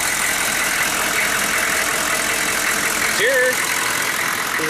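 A 1994 Chevy 2500 with a 6.5 turbo diesel engine idles in a steady, rumbling drone close by, with a brief voice near the end.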